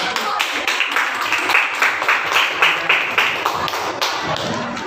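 A group in an Indonesian school classroom claps for a student group, a light, uneven patter of hand claps and taps that keeps going for several seconds at close range.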